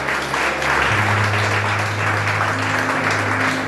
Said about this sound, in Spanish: denle una ofrenda de palmas por su palabra que es perfecta